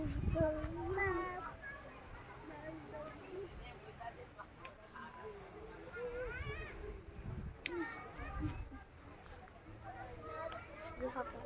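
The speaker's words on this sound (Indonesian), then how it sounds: "Ih, kucing." A cat meows several times at a family campsite in Bogor, West Java, among rural outdoor sounds, its short calls heard under nearby conversation and children's voices.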